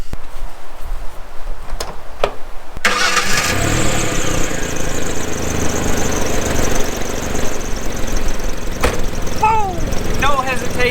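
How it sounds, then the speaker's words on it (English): A Ford Ranger pickup fitted with a swapped-in Ford Taurus engine cranks and catches after a couple of sharp clicks, then settles into a loud, steady idle close by, with a few faint chirps and knocks over the running motor. "let's start this thing up"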